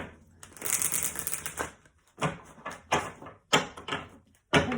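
A deck of tarot cards is shuffled by hand close up to pull an advice card. Quick riffling bursts come in several uneven clusters, with short pauses between them and no talking.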